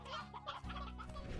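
Hens and roosters cluck in the Slime Rancher video game, with a quick run of close, busy clucks and squawks over a low hum, no talking.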